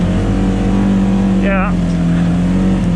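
Polaris RZR S 1000 side-by-side engine droning loudly and steadily throughout at close range, with a brief voice breaking in midway over the constant motor roar.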